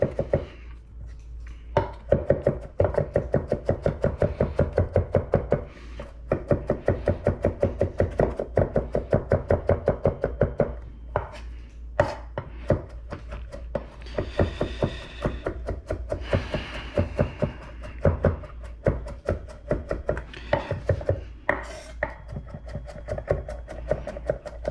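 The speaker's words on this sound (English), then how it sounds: "I'm gonna just chop this garlic up fine." Garlic chopped finely with a knife on a cutting board for vegan scallion ramen, a long run of rapid, close, even knocks that pauses briefly a few times, then continues in looser bursts.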